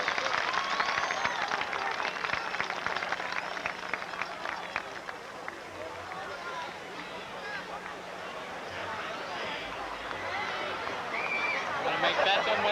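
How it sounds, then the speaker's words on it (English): Crowd applause and cheering at a high school senior night football game between Hollidaysburg and Altoona, honoring senior players and cheerleaders, with scattered claps and crowd babble heard at a distance, fairly faint, alongside talk. "We have a nice round of applause for our senior team members, cheerleaders, and senior football players."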